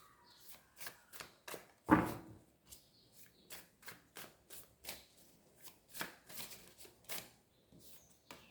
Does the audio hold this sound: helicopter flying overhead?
no